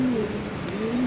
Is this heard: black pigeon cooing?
yes